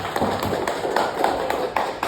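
Students in a classroom clap together in a steady, moderately loud patter of many hands, with faint rhythmic accents.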